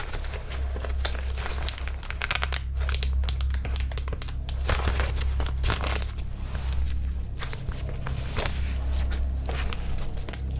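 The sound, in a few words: resealable plastic container being opened and resealed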